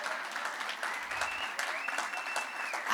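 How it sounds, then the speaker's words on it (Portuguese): An audience at a forum on tourism and women's territorial rights applauds warmly, a steady wash of many hands clapping at moderate loudness throughout, with voices mixed in underneath. "Agora aplauda as mulheradas com muito gosto."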